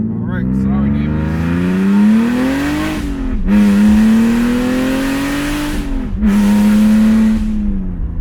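A loud twin-screw supercharged BMW E46 330i engine revs hard in long sustained pulls, pitch rising and falling, with two brief drops between throttle bursts.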